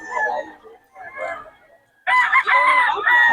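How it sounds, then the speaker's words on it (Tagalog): Chickens cluck and a rooster crows loudly at close range, the first half with quieter clucking and calls, then a sustained bright crow filling the last second and a half. "Kay Boss M, mga idol, magaganda manok nito"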